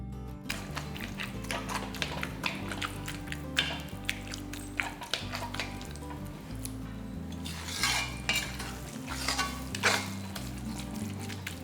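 Brinjal kotsu being stirred in oil in a pan on the stove, with repeated scraping and tapping of a spoon against the vessel over a low bubbling sizzle.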